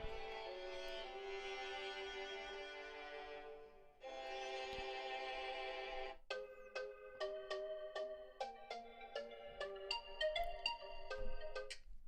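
An LG G8 ThinQ phone speaker playing a bright, melodic tune loudly, sustained chords giving way to a quick plucked rhythmic pattern, no voices.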